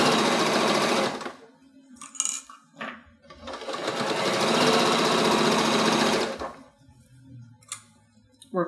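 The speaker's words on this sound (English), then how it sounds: "And as you're going along, just slowly backstitch all the way around and just work your material in." A sewing machine backstitches a zip bag, its needle clattering in two long rapid runs with quieter pauses and handling noises between, close and loud.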